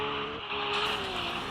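A car drifting, a steady engine whine with a sustained tonal hum and rough tyre noise running continuously, close and fairly loud, with no voices.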